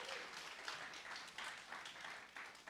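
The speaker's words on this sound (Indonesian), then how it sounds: "Kasih tepuk tangan Tuhan Yesus." A church congregation at a Sunday service claps together, a quiet, distant patter of many hands that pulses slightly in waves.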